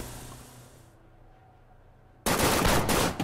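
Rapid gunfire from a shooting scene in The Henry Stickmin Collection game, a loud dense burst that breaks in suddenly after a quiet, low hum and keeps going to the end.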